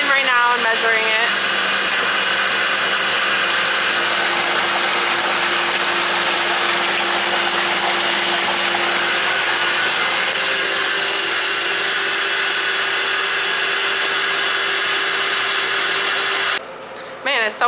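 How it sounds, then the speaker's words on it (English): Electric pump steadily pumping maple sap into an evaporator system, a loud continuous mechanical drone with a faint steady hum, running close and unbroken for the whole stretch and cutting off near the end. "it's so hard to talk out there when the pump is on"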